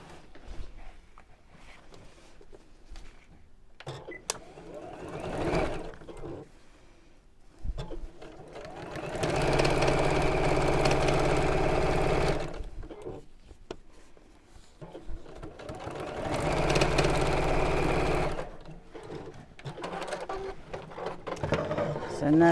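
Sewing machine stitching a fabric strip for a box pleat cosmetic pouch, two sustained whirring bursts of several seconds each, close and fairly loud, with quieter handling noises and short pauses between.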